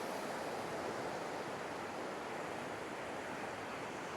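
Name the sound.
ocean waves breaking on Gwithian Beach, Cornwall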